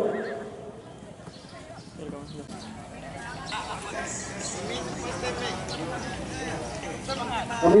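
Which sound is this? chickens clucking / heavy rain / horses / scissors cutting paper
horses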